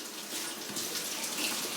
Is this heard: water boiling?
yes